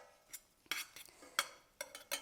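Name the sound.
stirring dried oregano into a one-pot meal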